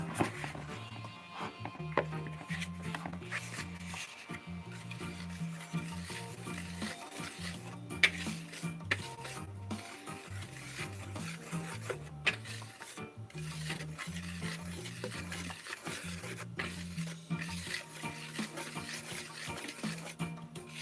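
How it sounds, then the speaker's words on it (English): Cupcake batter for homemade coconut cupcakes is whisked in a bowl, giving steady scraping, clicking strokes close by that run continuously for the whole stretch under a low background hum. "You guys ever sit with a whisk? That's what I'm going to do."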